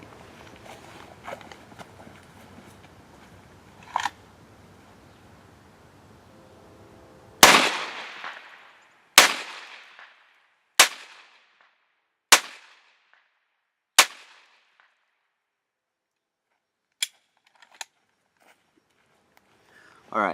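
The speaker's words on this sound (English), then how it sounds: "And we'll just shoot about 5 or 10 at a time for the camera." Speer Gold Dot 9mm Luger +P 124 grain hollow-point rounds fired from a handgun outdoors at a target: about five sharp, loud shots at roughly even intervals, followed by a few fainter distant cracks, after some quiet speech at the start.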